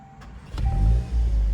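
A 2026 Volkswagen Golf GTI engine starts up close by: a brief click and whir, then a deep rising rumble as the motor catches and settles into a steady low run.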